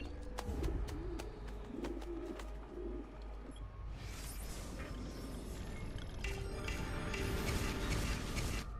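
Pigeons cooing at a pigeon coop in Assassin's Creed: Brotherhood, soft repeated coos and bird calls over a low, quiet game ambience.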